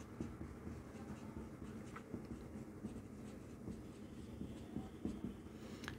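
A pen scratches steadily across paper during a seventh-grade math lesson, a soft, continuous close-up writing sound with small taps and strokes and no talk.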